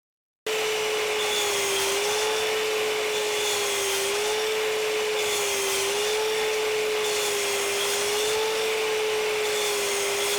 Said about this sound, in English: And I'll connect this as close as I can to the vac.